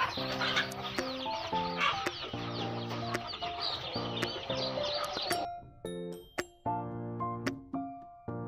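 Country chickens on a farm that sells goats and poultry cluck busily, with a melodic chiming tune playing loudly over them before the sound thins into short separate notes.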